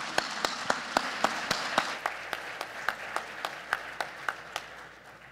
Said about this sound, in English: I would like to give a round of applause to our panelists for this incredible session.